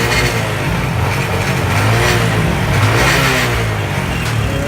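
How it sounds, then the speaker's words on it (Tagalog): Motorcycle engine running and revving at a New Year celebration, a steady loud low rumble throughout with rising and falling rev surges, close by and without speech. "Paandaro yung motor."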